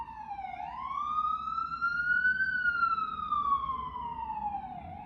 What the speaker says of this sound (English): you see how I just paused to give that siren time to pass?